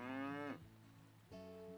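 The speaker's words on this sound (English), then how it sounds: "let's pet the cow" A farm cow in the Kynseed video game moos when petted, giving two clear low, harmonic calls, a longer one and then a second after a short pause, heard alone.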